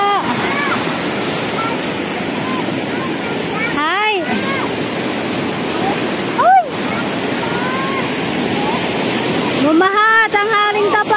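Floodwater rushes loudly and continuously after a short rain, a dense close roar throughout, with voices shouting briefly over it at a few points.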